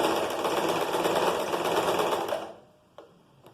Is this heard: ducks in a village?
no